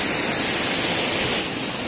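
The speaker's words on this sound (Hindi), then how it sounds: "मैं अभी झरने से थोड़ा सा दूर हूँ, लेकिन इतनी गजब की यहाँ पर पानी की बूंदें आ रही है ना" Steady, loud rushing roar of a waterfall heard from a short distance near Kanvashram outside Kotdwara, a dense broadband hiss of falling water with no breaks or voices.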